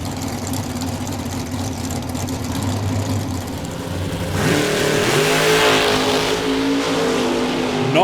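Drag racing cars at Calder Park idle loudly, then launch with a surging, rising engine roar that carries to the end, close and powerful with no speech.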